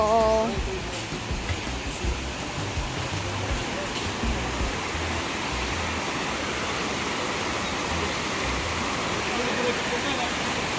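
Steady, loud rushing of river water fills the scene continuously, a broad roaring wash with no pauses.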